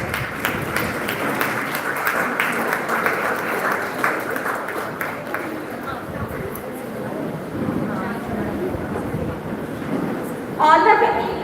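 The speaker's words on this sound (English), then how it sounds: "A huge round of applause for our worthy guests." Students clapping for guests at a college function in Ambala City, a broad, steady wash of applause from a large crowd that runs throughout, with a brief louder burst near the end.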